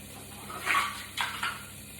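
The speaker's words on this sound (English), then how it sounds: "I'm just going to add a little water, and all that's going to do is help me get some of the stuff off the bottom" Water splashes into a hot pan of cooking broccoli with a few short hissing, sizzling bursts over a quiet background.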